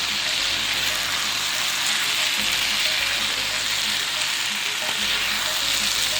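Mixed vegetables stir-fry in a pan with soy sauce, giving a steady, loud, close sizzle and crackle with faint stirring scrapes underneath, continuous throughout.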